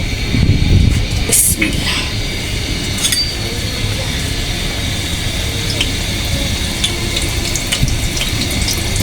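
Paratha flatbread sizzling as it goes into hot oil in a home kitchen pan, a steady close frying hiss with a brief louder splash near the start, continuing evenly throughout.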